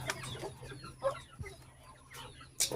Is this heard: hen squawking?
yes